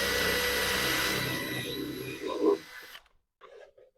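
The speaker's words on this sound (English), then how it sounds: "I will take my 1/4" bit and drill a hole dead center" Power drill boring a hole with a 1/4 inch bit into a wooden fence picket, a loud whirring that winds down and stops abruptly near the end, followed by faint handling sounds.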